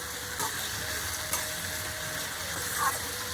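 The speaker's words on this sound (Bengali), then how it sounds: "সমস্ত উপকরণগুলোকে দিয়ে আমি খুব ভালোভাবে সবজির সঙ্গে নাড়তে থাকবো" Vegetables and spices for khichuri are stirred in a hot pan, a soft continuous sizzle broken by a few light scraping strokes, close and fairly quiet, with nobody speaking.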